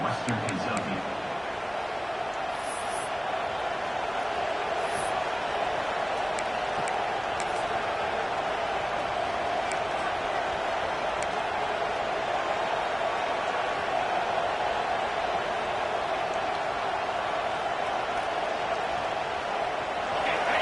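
A roaring stadium crowd at a football game, a dense, even wash of noise that holds steady throughout at moderate level, with no clear peaks or breaks.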